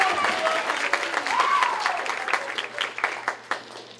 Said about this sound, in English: so y'all clap for high C's